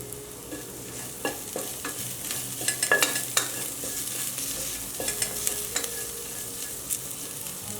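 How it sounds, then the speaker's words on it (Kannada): Onions frying red in a pan with turmeric, chilli paste and curry leaves for a Karnataka sprouted moth bean palya, a steady sizzle broken by repeated scraping stirs of a spatula, close and alone without voices. "ಈರುಳ್ಳಿ ಎಲ್ಲ ಕೆಂಪಾಗಿ ಫ್ರೈ ಆಗಿದೆ"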